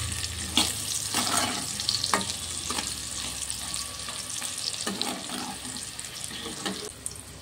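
Potatoes frying in oil in a kadai give a steady, watery sizzle with sharp clicks and scrapes as they are stirred and lifted out of the pan.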